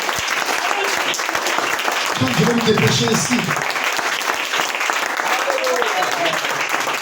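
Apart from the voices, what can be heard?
church congregation applauding and acclaiming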